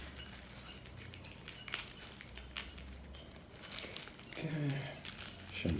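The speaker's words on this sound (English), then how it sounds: "I'm just carefully going to try and move it off of the tape here, little bit by little bit" Sticky tape is peeled slowly, bit by bit, off a Cape cobra in Cape Town, giving soft, close crinkling and tearing crackles in short irregular bursts, with a brief voice near the end.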